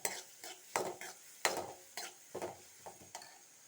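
A spoon stirs fish roe thoran in a pan with a steady run of scraping strokes, about eight in all, each followed by a light sizzle, close and clear with no talk.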